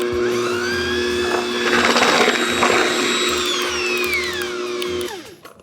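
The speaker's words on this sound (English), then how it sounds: "we're gonna mix these first until they're pale yellow and well combined" An electric mixer whirring loudly as it beats egg yolks with granulated sugar for a tres leches cake, a steady high motor whine that rises and then winds down as it switches off at the end.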